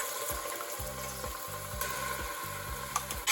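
A couple tablespoons of Thai red curry paste frying in a pan with garlic and ginger, giving a steady, close sizzle with faint crackles and some stirring scrapes underneath, no voices.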